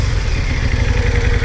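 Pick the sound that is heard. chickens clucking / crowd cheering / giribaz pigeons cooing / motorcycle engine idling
motorcycle engine idling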